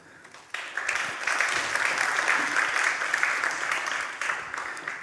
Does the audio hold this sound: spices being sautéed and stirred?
no